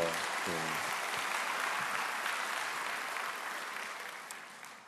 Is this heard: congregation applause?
yes